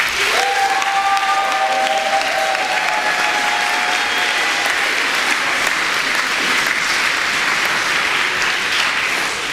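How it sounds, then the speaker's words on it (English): Loud, sustained applause from a large crowd at a graduation ceremony, steady throughout with brief faint tonal sounds near the start. "We can get another round of applause"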